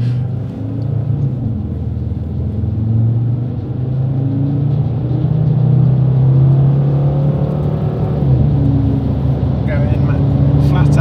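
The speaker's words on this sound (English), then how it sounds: "Going in flat out, we're maxing out my car on the dyno." ABT-tuned car revving flat out on a chassis dyno, a loud sustained engine roar that builds steadily over about ten seconds with rising tone, heard close up.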